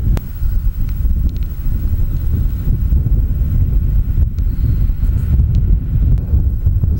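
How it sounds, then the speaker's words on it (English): Strong high-altitude wind in the Atacama buffets the microphone in a constant, loud low roar, gusting without pause and with no voices. "It seems to be very windy."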